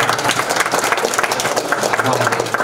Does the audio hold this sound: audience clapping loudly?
yes